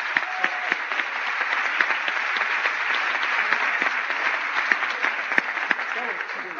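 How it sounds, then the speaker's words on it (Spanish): A crowd at a library talk on reading breaks into steady, dense applause that holds at an even level throughout, with a few sharper individual claps standing out near the end. "Palmas para nosotros"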